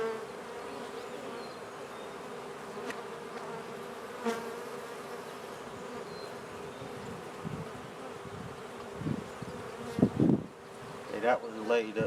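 A honey bee swarm being moved into an eight-frame hive produces a continuous, even buzz of many bees, with a few louder close thumps and rustles near the end.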